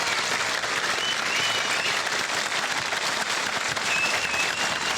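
A crowd at a railway workers' union rally applauds steadily, dense clapping filling the whole stretch at an even, moderately loud level.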